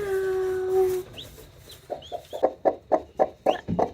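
Faint, high peeps from hatching chicks come in short bursts, then a hen clucks in a steady rhythm of soft, close pulses.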